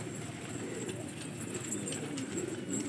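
A caught pigeon coos softly amid a flock of pigeons, low repeated throaty calls over a steady background murmur, fairly faint and without speech.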